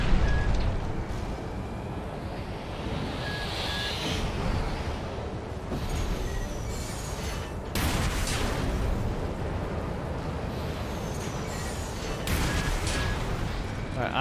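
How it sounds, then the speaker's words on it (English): Missiles exploding in the Armored Core video game during a fight with a weaponized mining ship, a dense sustained roar of blasts with sharp bursts standing out, loud and continuous throughout. "Again, and more missiles."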